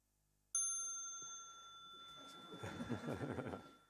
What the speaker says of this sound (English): I thought first of all we will try this bell out, check it out, see if it works nicely here.